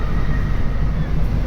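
The Minangkabau Express train runs from Simpang Haru station in Padang toward the international airport, giving a steady, loud rumble of wheels and carriage noise heard from on board.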